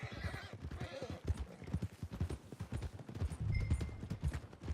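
Horse hooves clip-clop steadily in Red Dead Redemption 2, close and clear, with a neigh rising partway through and faint background game sounds.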